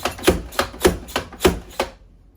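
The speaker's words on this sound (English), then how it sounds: "We're going to put the potatoes in the mandolin, and they slice up ever so nicely" Potatoes are sliced on a mandolin in six close, rhythmic strokes, each a sharp scraping swipe about a third of a second apart, then quiet.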